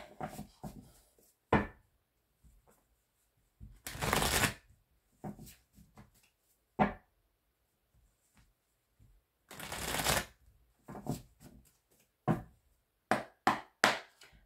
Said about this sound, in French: on va aller voir avec l'oracle d'Annabella